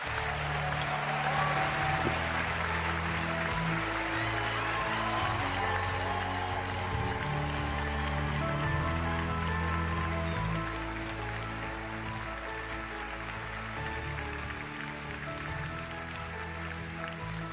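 An audience at an award ceremony in Stockholm gives sustained, even applause for a laureate, a soft, distant patter of many hands with a steady low hum beneath it.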